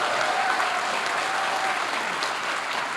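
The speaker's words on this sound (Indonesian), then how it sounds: "Tepuk tangan." An audience applauding at a political gathering in Indonesia, dense, steady clapping from many hands filling the room, loud and continuous throughout with no distinct voices.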